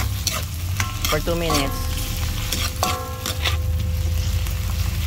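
Mushrooms sautéing in a pan for carbonara, a steady hiss of frying with spatula scrapes and metallic clinks as they are stirred, under background music, with a short spoken phrase.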